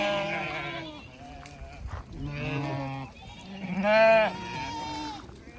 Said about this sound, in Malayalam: ഇവിടെ കട്ടിങ് പർപ്പസിന് പോകുന്ന ആടുകളാണ് അതിനെ ഇവിടെ ഇറക്കി അതിന് ആഹാരമൊക്കെ കൊടുത്തിട്ട് തിരിച്ച് കയറ്റിക്കൊണ്ട് പോവാണ് ചെമ്മരിയാടുകളാണ് കൂടുതൽ